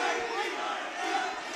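Capacity crowd at a TXC Legends fight event roaring and cheering in a steady, dense wash of voices, distant and fairly faint, with no clear talk over it.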